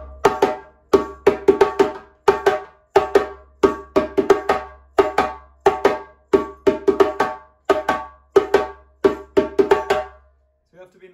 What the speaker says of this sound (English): we're gonna do the first djembe part.